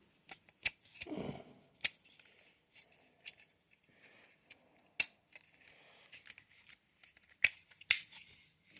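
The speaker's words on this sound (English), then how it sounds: "Click his little toesies in." Plastic Transformers Aerialbot toy feet clicked into place during transformation, sparse sharp close clicks and snaps scattered with pauses, a soft handling rustle early on, no talking.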